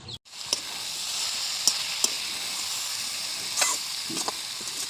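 Cabbage and peas fry in a pan with a steady, loud hiss of sizzling, broken by a few sharp clinks as the food is stirred with a utensil.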